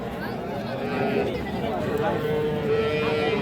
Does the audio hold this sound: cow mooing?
yes